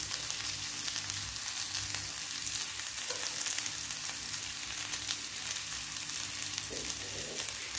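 Chillies dropped into hot oil after frying mackerel fry with an even, crackling sizzle, fairly close, holding steady from start to finish with a few faint stirring scrapes and a background hum, no voices.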